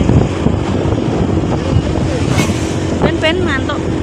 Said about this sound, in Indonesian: Aku kena angin kencengnya mbok pemirsa